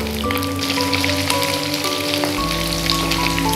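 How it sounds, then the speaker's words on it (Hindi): Capsicum (bell pepper) lightly frying in a kadhai gives a steady, dense sizzle with fine crackling throughout, fairly close and continuous, under a low hum from the stove, with no talking. "तो शिमला मिर्च को हम फ्राई कर लेंगे हल्का सा।"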